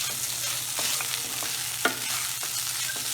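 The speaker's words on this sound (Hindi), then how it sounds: "अब हम पोहा को हल्के हाथों से अच्छे से मिला देते हैं।" Poha fries with turmeric in a pan while being gently stirred, a steady soft sizzle under repeated scraping strokes of the spoon, close up and without any talking.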